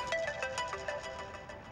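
A mobile phone ringtone plays a repeating electronic melody of quick, evenly spaced tones, moderately loud and heard on its own indoors.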